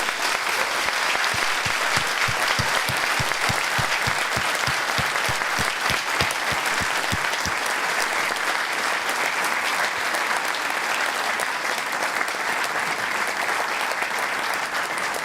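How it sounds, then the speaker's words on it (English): An audience claps for a presenter after a security talk in Gothenburg, with steady, dense applause that stays loud and sustained, a few distinct hand claps standing out early on. "big applause to Steve for coming here and presenting SQRL."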